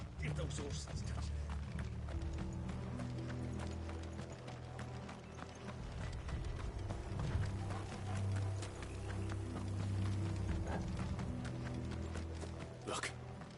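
Horses' hooves clip-clop steadily throughout a Final Fantasy XVI scene, a sustained rhythmic trotting with mechanical rattling underneath, over a low droning score and possible voices.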